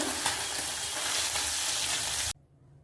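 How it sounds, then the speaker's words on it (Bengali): Tangra fish frying in oil heated until smoking gives a loud, dense, steady sizzle up close for a couple of seconds, then cuts off abruptly into near silence. "এভাবেই সবগুলি মাছ ভেজে নেব"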